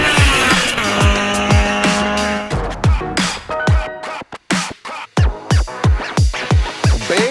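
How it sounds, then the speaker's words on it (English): A V8 Chevy Camaro engine loping at a choppy, uneven idle with repeated revving pulses and loud exhaust bursts, up close and without talk. "You can hear the Camaro chopping in the background right now"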